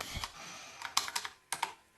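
Keys clacking on a computer keyboard while a terminal command is entered, a few quick separate bursts of keystrokes spread over two seconds, close and fairly soft, with no voices.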